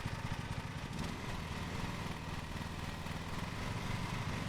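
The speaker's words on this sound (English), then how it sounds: "Hold X to start the vehicle's engine." Riding lawn mower engine in the Lawn Mowing Simulator video game, running at a steady, even drone with a slight rhythmic throb, moderately close and heard on its own without any voices.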